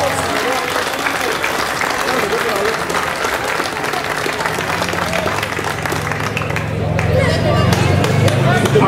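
A crowd in Amarynthos, Greece, applauds the newly elected mayor of Eretria with sustained, dense clapping and murmuring voices that continue steadily and swell slightly toward the end.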